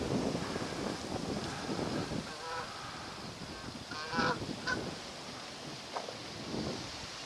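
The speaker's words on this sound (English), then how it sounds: "Oh, a gaggle of geese up there." A gaggle of geese honk in scattered calls from a flock overhead on a countryside walk in Hampshire, England, against gusty wind rumble on the microphone.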